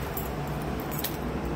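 Keys jangle and scrape against a locked door lock at a Bangkok building after hours, with a bright metallic clink standing out midway, close and fairly quiet over a steady background hum.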